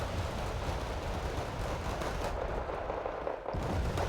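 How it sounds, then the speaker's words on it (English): Sustained rumbling barrage of artillery fire in the real-time strategy game Wargame: Red Dragon, heavy low booms blending into a continuous roar with a brief dip near the end, no voices. "Looks like artillery is doing some work over here though."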